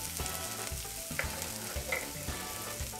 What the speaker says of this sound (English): Add a 1/4 cup of finely chopped shallots into the olive oil. Let's sauté these for about a minute.